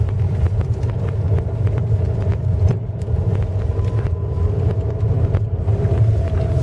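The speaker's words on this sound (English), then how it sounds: "We are driving a Fiat Punto" Fiat Punto car driving on a mountain road toward Chandrataal Lake, a steady low engine and road rumble heard from inside the car, with faint rattles and no talk.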